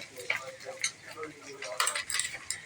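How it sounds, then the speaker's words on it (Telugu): Liver fry with ginger garlic paste is stirred in a pan, with a spoon scraping and clinking against the metal in light, irregular taps, quiet and close. "కలబెట్టుకో అల్లం వెల్లుల్లి పేస్ట్ చక్కగా ముక్కలకి అంతా పట్టేలాగా తిప్పాలి"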